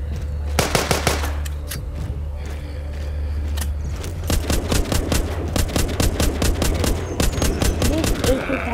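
Gunfire in The Walking Dead video game, a loud rapid burst of automatic shots early on, scattered single shots, then long sustained rattling bursts, with a voice talking in the background.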